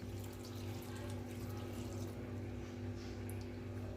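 Water runs steadily into a cooking pot over spinach and lentils under a low background hum, a faint continuous pouring sound with no speech.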